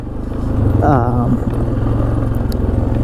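Engine of a 1996 Polaris Sportsman 500 ATV with CVT clutch dropping as the throttle is released, a close low motor drone with a brief falling whine, under a man's speech.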